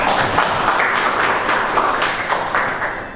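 A group applauds together during a school academic supervision coaching session, a loud, dense and continuous patter of clapping that carries on throughout and tapers slightly at the end.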